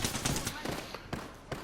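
Gunfire in the video game Apex Legends: several sharp, close shots, with a quick burst early on followed by scattered single cracks, mixed with faint talk.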